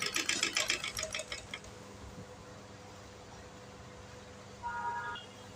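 A sewing machine makes a quick burst of rapid stitching along the edge of a blouse strip, then stops. A quiet room hum follows, and a faint tonal beep comes late.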